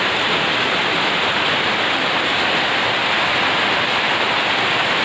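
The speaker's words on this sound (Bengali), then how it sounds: "দেখো কীরকম বৃষ্টি হচ্ছে" Steady heavy rain pours down in a rainy monsoon setting, a dense continuous hiss with no break and no voices, loud and close throughout.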